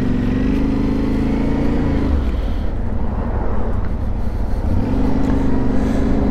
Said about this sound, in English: We are on the Yamaha Tenere 700 World Raid version.